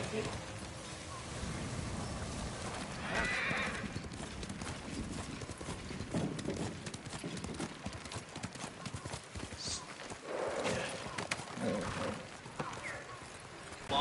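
Horse hooves clip-clop steadily over a busy Ghost of Tsushima game soundscape, with an occasional neigh and a person talking over it.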